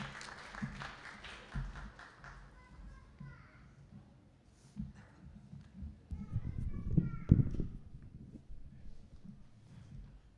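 A church audience claps to welcome a family to the stage. A burst of applause opens and then fades, and children's voices and other chatter carry on at a moderate level.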